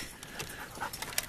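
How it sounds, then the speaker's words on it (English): A dog panting nearby in a horse pen, quick soft breathy huffs in an uneven rhythm, faint and close. "dog's about to trip me"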